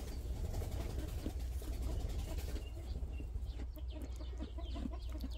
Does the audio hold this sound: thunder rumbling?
no